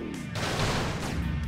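Car crashing and rolling over in GTA Vice City: a loud burst of smashing, crunching impacts spread over under two seconds, then settling into engine rumble.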